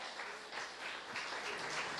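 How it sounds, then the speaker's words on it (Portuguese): A church congregation claps during a service, a short, faint spread of applause heard from some distance with no clear speech. "a salva de palmas para o Yudi e para o Robson"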